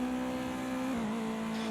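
Race car engine in Project Cars 2, a steady droning hum holding a near-constant pitch with a slight dip midway, loud and close with no talking.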